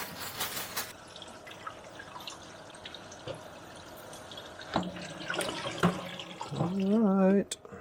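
Running tap water splashes over a batch of cherry tomatoes being rinsed in a kitchen sink, with intermittent drips and clatters and a rising gush of flow toward the end; no clear talk.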